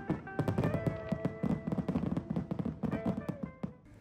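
Fireworks burst at the Winter Fireworks Festival at Kawaguchiko near Mount Fuji, a dense, fairly distant crackle of rapid pops and thuds that keeps going without a break.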